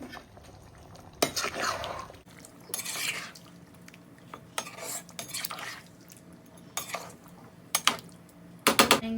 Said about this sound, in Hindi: इसमें जा रही है इमली और आलू बुखारा, इसको मैं करूँगी मिक्स